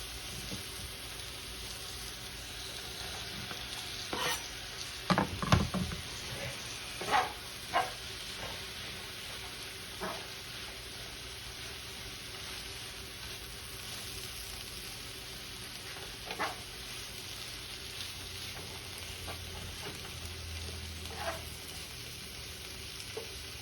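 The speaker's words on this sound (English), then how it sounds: "we'll go ahead and add these onions" Onions for Salisbury steak sizzle and fry in a pan with a steady hiss, broken by a few louder clatters and stirring scrapes early on, then settling into continuous frying.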